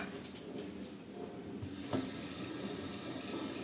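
Tap water runs into a basin to replace the soaking water over salt cod, a steady close gushing stream that swells slightly partway through, heard alone.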